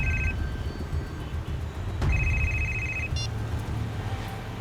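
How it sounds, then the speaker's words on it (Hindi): A phone rings with two short electronic trilling bursts separated by a pause, heard inside a moving car during a CID TV drama episode over a low, constant engine rumble. "इसी वक्त पे फोन आना था,"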